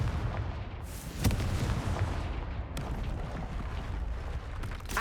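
Fiery blast spell cast in the video game Hogwarts Legacy, a dense booming explosion with sharp bursts near 1.3 and 2.7 seconds over a continuous loud rumbling roar.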